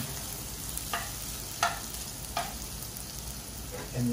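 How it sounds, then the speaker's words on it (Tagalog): Vegetables for lumpiang gulay sauté in a pan, a steady soft sizzle with a few sharp utensil taps against the pan at intervals. "Unahin muna natin silang gisahin"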